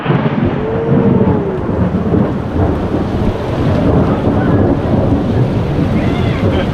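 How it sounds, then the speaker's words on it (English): A thunderstorm with hail in July in Slovenia: a loud, continuous low rumble of thunder blends with heavy rain and some wind buffeting the microphone, close and enveloping throughout. "Thunder and lightning. Thunderstorm."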